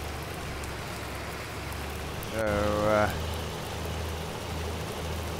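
Steady broadband hiss of rain in Farming Simulator 19 fills the whole stretch at an even level, with a short tonal vehicle or machinery sweep in the middle and a brief spoken word.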